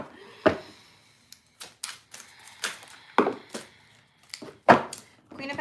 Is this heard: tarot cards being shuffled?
yes